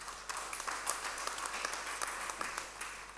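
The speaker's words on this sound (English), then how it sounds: "Round of applause." Applause from a church congregation during a morning service, a dense, steady patter of many hands clapping at once, moderately loud and continuous with no talking over it.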